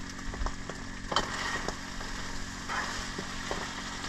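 Drained peas and carrots sizzle in a frying pan at a campsite, a steady close hiss broken by a few scraping stirs and soft clicks.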